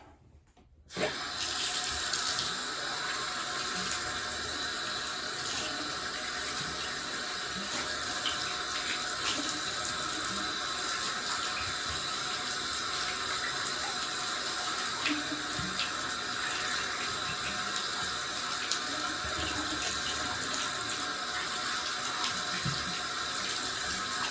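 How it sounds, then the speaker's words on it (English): Tap water runs steadily into a sink while a dug glass bottle is rinsed under it after scrubbing, a constant close splashing rush that starts abruptly after a brief quiet moment and continues without a break. "Let me rinse this off."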